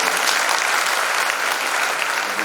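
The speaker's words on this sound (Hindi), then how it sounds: "बहुत जोरदार तालियों से" Loud, dense applause from an audience at a youth camp gathering in Shantikunj, steady and continuous throughout without a break.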